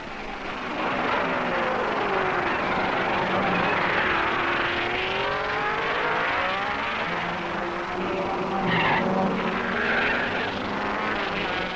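Formula 1 cars of 1961 racing at the Monaco Grand Prix, with Moss's car pressing Ginther's: a steady, loud engine drone whose pitch sweeps up and down as the cars pass, continuous throughout with no talk.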